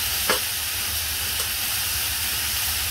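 Sambar seasoned with turmeric and coriander powder is stirred in a pot. A constant low hiss and sizzle runs throughout, with a couple of faint utensil taps.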